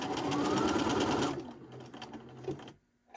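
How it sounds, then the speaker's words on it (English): A sewing machine stitches buttons onto a collarless camp-collar woven shirt, running in a fast, loud, close burst for about a second and a half before slowing through a few final stitches and stopping. "once we've finished sewing everything"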